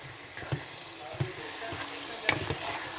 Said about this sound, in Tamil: நல்லா இதை அந்த ரா ஸ்மெல் போகிற வரைக்கும் நல்லா நீங்கள் அதை ஃப்ரை பண்ணிவிடுங்க